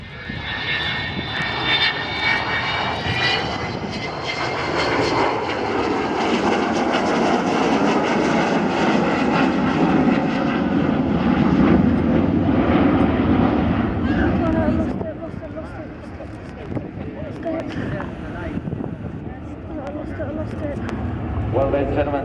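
Avro Vulcan XH558 bomber jet engines at the Dunsfold Wings & Wheels air show in Surrey give a loud, sustained roar with a high howl. The roar swells and sweeps past, then drops away toward the end.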